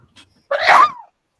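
A single loud, close human sneeze bursts out after a brief quiet intake of breath, alone against silence.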